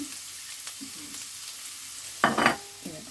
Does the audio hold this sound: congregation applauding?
no